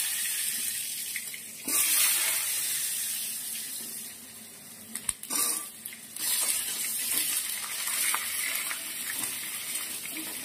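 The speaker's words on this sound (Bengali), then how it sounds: "ফুলকপি আলু আর কুমড়ো দিয়ে ভালো করে এটা ভেজে নেব" Pumpkin and potato pieces frying in hot oil with whole dried red chillies and cumin seeds, a steady bright hiss and sizzle throughout with a sharper crackle burst near the start and a few brief clatters midway.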